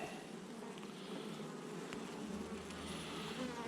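A honeybee colony buzzing inside a hive bought from an old beekeeper, a dense steady close hum of many bees with no voices.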